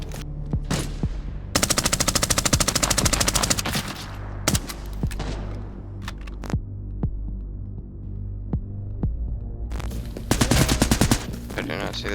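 Suppressed MP5 bursts fire in the shooter game Arena Breakout Infinite, the MP5 fitted with a 9x19 suppressor. Rapid clattering volleys come in two long bursts with scattered single shots and impacts between them, all over a low game hum.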